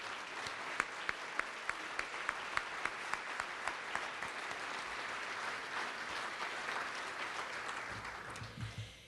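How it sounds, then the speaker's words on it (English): Warm applause from a county meeting audience for county employees, with a few distinct near claps standing out at the start before the sound settles into a broad, steady ovation that fades at the end. "Let's give them all a warm round of applause."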